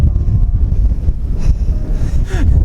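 Strong wind buffets the microphone on a cliff edge on the Scottish coast, a loud, continuous rumbling roar with gusty swells and faint higher sounds breaking through near the end.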